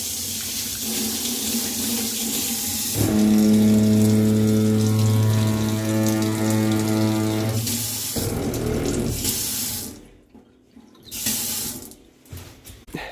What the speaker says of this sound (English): So when they run their hot water here, they're getting lukewarm water out